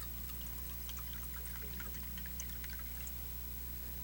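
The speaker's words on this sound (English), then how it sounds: "Pour that in here with the fat." Half a cup of water is poured into fat for a Depression-era Christmas pudding, a faint trickling splash over a steady low background hum, with no talk.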